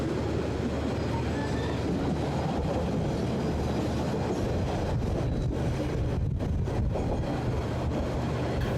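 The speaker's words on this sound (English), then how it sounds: "The train is now climbing to the volcanic Central Plateau" The Northern Explorer passenger train climbs toward the volcanic Central Plateau of New Zealand's North Island, making a loud, continuous rumble with steady rattling of the carriages throughout.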